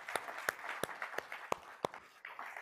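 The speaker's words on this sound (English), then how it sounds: "Round of applause to our product team." Audience applause at a live corporate event, sparse and uneven: a handful of distinct claps ring out at a moderate distance over a soft, steady room murmur.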